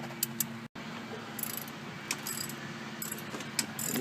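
Ratchet and 22 mm socket handled while changing rotors on a 2003 Kia Sedona, giving faint metallic clinks and jangles scattered over a steady low hum, with a brief dropout near the start.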